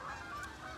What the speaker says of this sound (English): You can hear in the background those magnificent geese.